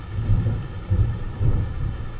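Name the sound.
rain with thunder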